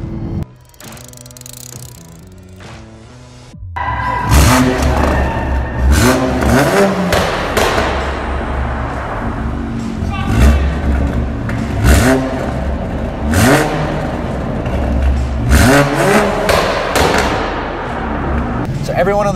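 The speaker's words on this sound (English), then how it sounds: "an ETS full turbo back exhaust system that just straight shakes your soul" A Toyota Supra with a Euromotive intake and charge pipe and an ETS full turbo-back exhaust. A quieter opening gives way to a string of loud, aggressive revs with sharp exhaust cracks, repeating closely for most of the stretch.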